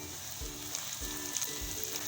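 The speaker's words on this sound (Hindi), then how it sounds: "हम प्याज को जो है इतना फ्राई करेंगे कि इसमें एक अच्छा सा प्याज में कलर आ जाए" Onions fry in mustard oil for an aloo methi keema, making a faint, steady sizzle with a few soft low thumps, quiet and without speech.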